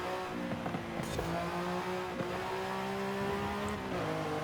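A fast car in the Forza Horizon 5 video game accelerates through corners, its engine holding a steady, close drone with pitch that climbs and shifts between gears.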